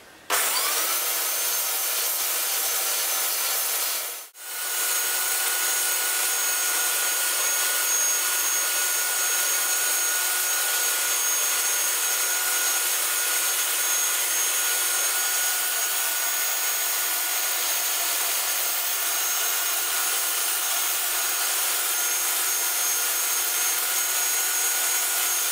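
Steady, continuous abrasive sanding on a wooden prop machete grip, a close, even hiss that runs almost unbroken with one brief dip near the start and no voices.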